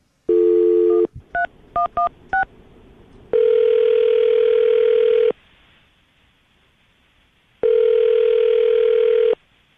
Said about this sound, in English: I'm going to dial a phone number right now